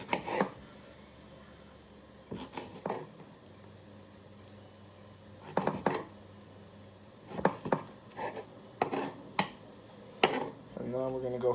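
A knife cuts a tomato into squares on a board, in irregular clusters of soft, close chops and taps separated by quiet pauses, with a voice faintly present.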